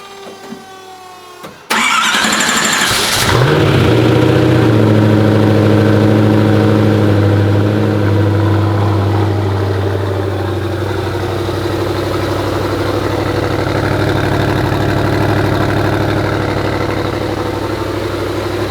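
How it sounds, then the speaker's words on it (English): An eight-million-dollar hypercar, either a Pagani Huayra or a Koenigsegg Agera RS, cranks briefly and roars to life with a loud flare, then settles into a steady, deep, close idle. "I'm gonna fire it up, Kev, just so you guys get a bit of the noise."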